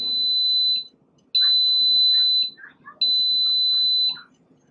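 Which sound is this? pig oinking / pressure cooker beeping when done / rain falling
pressure cooker beeping when done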